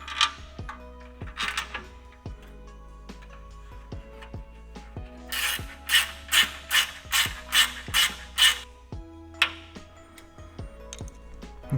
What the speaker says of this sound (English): So to install these, you're going to want to get yourself a 10mm and a 4mm hex key. So a 10mm ratchet and